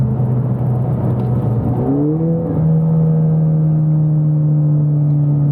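Car with a 10-speed automatic transmission downshifting: a steady engine drone whose pitch jumps upward with revving around the midpoint as gears drop, then holds a higher, smooth whine.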